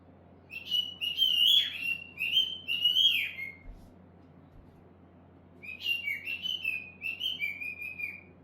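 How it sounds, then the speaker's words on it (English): Small birds sing nearby in two bursts of bright, warbling chirps and trills, separated by a short quiet pause over a low steady hum. "my little birds are happily singing away"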